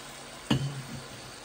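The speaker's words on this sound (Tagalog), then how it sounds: "Lagyan natin ng konting tubig." Water poured into a cooking pot holding pork strips, carrots, cabbage, French beans, mushrooms, onion and garlic: a single short splash and sizzle, close and fairly soft, fading into a low simmer.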